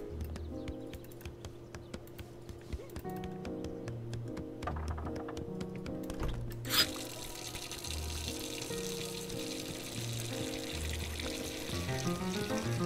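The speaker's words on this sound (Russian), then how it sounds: "Мне там нужно включить воду" Tap water in Untitled Goose Game starts running partway through, a bright steady hiss of flowing water continuing loudly under light game music and clopping steps.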